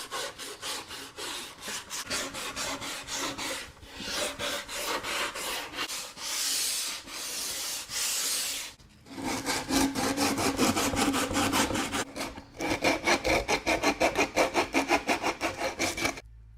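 Rhythmic hand sanding of a wooden treadmill desk being built, quick back-and-forth rasping strokes close up in steady bursts with brief pauses, no talking.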